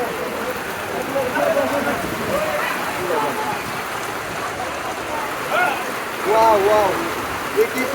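Rain patters steadily at an outdoor cattle market, a soft wash of falling water beneath people talking and calling out nearby.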